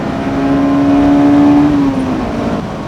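Honda S2000 engine revving hard toward 9,000 RPM on VTEC on an open road, a loud, rising mechanical wail held for about two seconds before easing off, no talking.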